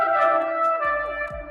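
Sustained synth lead smeared with delay and Portal-style texture processing, layered tonal drones with echoing repeats and a low swell entering near the end, played alone without talk.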